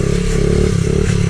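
A CRF 50 pit bike runs close by with a buzzing, steady motor tone and slight pitch shifts as it is ridden, over rough clattering noise.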